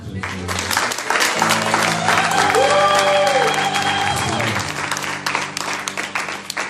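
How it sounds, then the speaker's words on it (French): Church congregation applauding and cheering loudly in a hall, a dense sustained roar of clapping with whoops and raised voices throughout, easing slightly toward the end. "Est-ce que vous pouvez m'aider à les encourager en acclamant très fort?"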